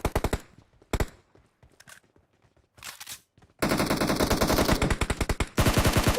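Automatic gunfire in PUBG Mobile: scattered rapid bursts of sharp shots with short gaps, then longer, louder, dense volleys near the end, with no talking.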